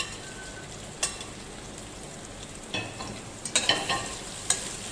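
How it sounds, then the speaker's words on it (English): Onions and chopped chilies sautéing in a pan for mutton sukhe, with a steady sizzle, broken by a few scraping stirs of a utensil near the end. "when you saute the onions like this, it gives moisture from the onions"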